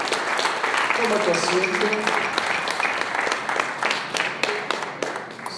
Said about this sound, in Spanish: Dale palmas al Señor, por favor.